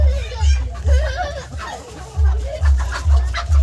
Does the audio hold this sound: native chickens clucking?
yes